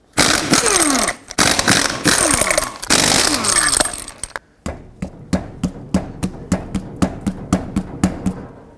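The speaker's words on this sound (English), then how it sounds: "take off all 6 lug nuts using a 21mm socket, and then remove the wheel" Lug nuts coming off a raised 2001–07 Toyota Sequoia wheel with a 21mm socket: a loud, dense burst of impact-wrench rattling with breaks, then a run of sharp, evenly spaced metallic knocks, close up.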